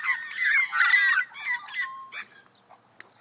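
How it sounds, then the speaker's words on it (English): Magpies squawk and chatter close by in harsh bursts, several calls overlapping in the first seconds, then trailing off into a few sparser squawks and one sharp final call. "Probably think the magpies are fighting."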